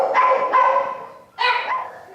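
A dog barks and yips at an adoption shelter in Clackamas County, loud and close, in two bursts separated by a short pause.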